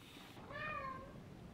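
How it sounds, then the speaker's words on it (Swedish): A house cat lets out a single drawn-out meow, fairly close and clear, over quiet room background with no talk. "utan det var katten som ville vara med"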